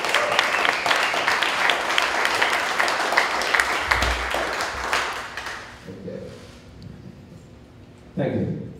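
A crowd at a Texas rally in Freeport claps steadily, loud and dense for several seconds before thinning out and fading, after which a brief bump of voice or handling noise follows.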